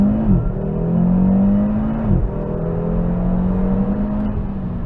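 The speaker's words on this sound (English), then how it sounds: "It's fine to accelerate hard onto a motorway" Audi RS3 accelerating hard onto a motorway, engine tone climbing through a gear, briefly dipping at a shift, then pulling strongly again with a steady rising drone, heard from inside the car without talk.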